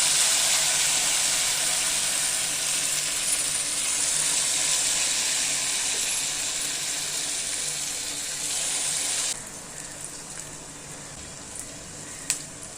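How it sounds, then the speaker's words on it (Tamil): Bonda batter deep-frying in hot oil, a dense steady sizzle and hiss close up that carries on for several seconds, then drops abruptly to a quieter bubbling with a faint click near the end. "எண்ணெய் காஞ்சிச்சு இப்படி போண்டா போண்டாவாக போட்டுடலாம்"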